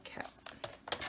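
A paper trimmer slices paper for a candy tray craft, making a quick run of three or four light, crisp clicks and scrapes up close.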